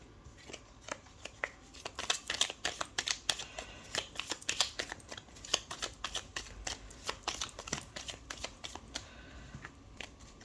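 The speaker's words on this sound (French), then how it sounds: "On va procéder à la coupe pour prendre nos 13 cartes." A deck of tarot cards shuffled and cut by hand, giving a long run of quick, crisp papery flicks and riffles at an irregular rhythm, close up and moderately quiet, with no talking.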